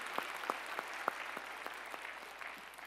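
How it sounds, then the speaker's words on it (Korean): Faint church congregation applause after a choir's worship song at a Sunday service, a soft patter of clapping with a few sharper, distinct claps standing out early on. "우리 찬양으로 영광 받으실 우리 주님께 영광의 박수 올려드리겠습니다."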